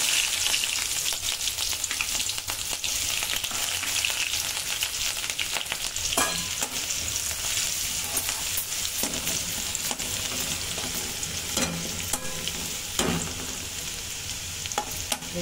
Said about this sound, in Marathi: लसूण मस्त काळा झालाय आणि आता हे बुडबुडे जसे कमी झाले, लसूण तळून झालेला आहे